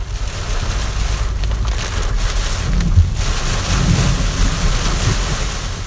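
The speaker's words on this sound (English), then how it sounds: "driving home through a raging thunderstorm" A heavy storm roars with deep low rumbling, wind and rain, loud and continuous with a few swelling gusts.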